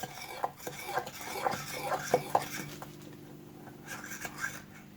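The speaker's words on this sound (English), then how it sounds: "we're going to add the flax. We're going to mix it up." Flax being mixed into cinnamon roll dough in a bowl, giving soft, uneven scraping and stirring strokes with a few sharper clicks, close and fairly quiet.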